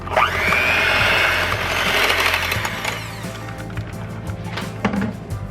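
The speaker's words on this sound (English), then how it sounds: "Now you could whisk this all up, but I am gonna beat it." Eggs seasoned with salt and black pepper being beaten by hand in a bowl, a steady rapid scraping and clattering that runs close and continuous for several seconds, then eases into quieter, sparser strokes.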